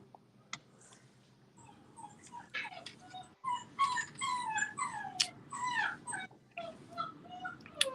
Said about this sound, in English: I wonder if I went and got that noisy puppy and held him.